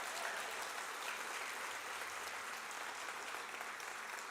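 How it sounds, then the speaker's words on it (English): Sustained crowd applause at a conference closing keynote, honoring the volunteers and production staff: dense, steady clapping from a large audience that holds an even loudness throughout, with no talk over it. "Please give them a round of applause."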